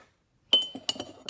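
Glass clinks sharply several times in quick, uneven succession close by as a drink of water and herbal ingredients is stirred, after a brief silence, with no voices.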